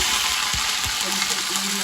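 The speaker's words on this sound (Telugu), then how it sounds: "గ్రీన్ చిల్లీ, పోపు అలా వేగుతున్నప్పుడు కొంచెం కరివేపాకు" Green chilli and curry leaves sizzle as a tempering in hot oil for pongal, a steady close crackling fry with soft stirring clatter and no voices.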